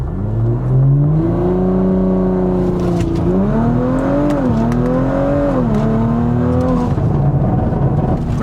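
A modified Audi accelerates hard through a 0 to 60 run, its engine note climbing loud and close through several gear changes, each upshift dropping the pitch before it rises again.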